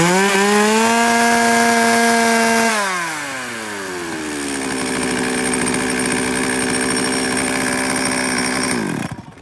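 A 381 chainsaw engine runs loud and close on a test start, idling high then dropping as the revs fall, settling into a steady drone before cutting off.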